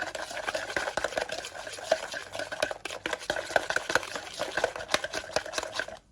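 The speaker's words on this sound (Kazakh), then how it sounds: "Енді мына жұмыртқа массасына шамалы сүт құямын. Тез-тез араластырамын да." Warm milk is whisked quickly into an egg mixture for custard, a brisk rapid clinking and scraping of a utensil against a bowl, steady and close throughout with no talk.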